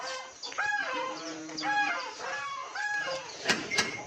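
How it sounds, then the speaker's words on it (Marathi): Farmyard country hens let out of their coop in the morning cluck and call repeatedly, a close, lively run of squawks and cackles with brief louder cries near the end. "कोंबड्या सोडतो, पिल्लाला आरडू राहिलेत बापरे"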